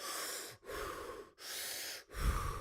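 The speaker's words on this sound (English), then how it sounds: "doing Wim Hof breathing. I was going" Wim Hof breathing exercise done lying down: three long, forceful breaths in close succession, each ending in a brief pause, with a heavier, louder exhalation at the end.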